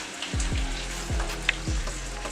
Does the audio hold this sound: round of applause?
no